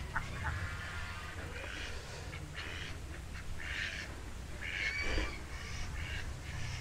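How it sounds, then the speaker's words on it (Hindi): Ducks at a budget resort in Bangalore quack repeatedly in a loose, overlapping chorus at moderate distance, over a steady low outdoor hum. "बत्तख हैं सब।"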